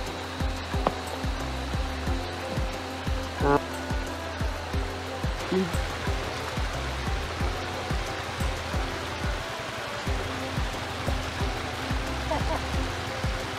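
The Deuni Khola stream flows near Tamsali village, a constant rushing wash of water with repeated low thumps riding through it, close by.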